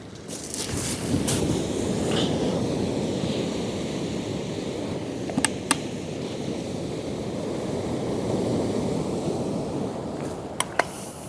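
Sea waves break continuously on Kilnsea beach on the Holderness coast, a broad, steady surf roar mixed with wind buffeting, and a couple of sharp clicks near the end.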